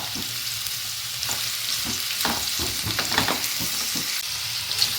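A raw mango pickle mix sautés in sesame oil, giving a steady close sizzle broken by repeated scraping and stirring strokes of a spoon in the pan, with no one talking.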